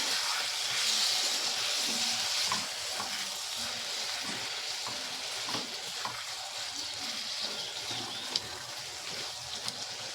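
Spice masala for a raw mango egg curry cooking down with a splash of water, a soft bubbling sizzle with watery spatter early and scattered stirring knocks throughout, fairly quiet.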